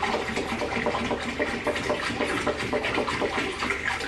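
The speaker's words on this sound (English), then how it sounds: "you put a gallon of water into the turkey bucket" A gallon of water is poured into a turkey brining bucket, making a steady, rushing splash that fills the whole moment at moderate loudness, with no talking.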